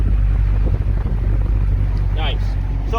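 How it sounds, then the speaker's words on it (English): A 2018 Dodge Challenger T/A 392 V8 exhaust rumbles deep and steady at idle close by, with wind buffeting the microphone and a brief squeal near the end. "you can really hear that exhaust rumble"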